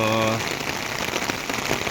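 Steady rain patters densely on a residential street in Kamareddy, a continuous close hiss, with a brief voice at the very start.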